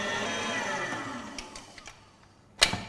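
An electric mixer with a paddle attachment beats chocolate cupcake batter in a bowl, a close, steady motor whir that winds down after about a second and a half, followed by a few light taps and one sharp clink.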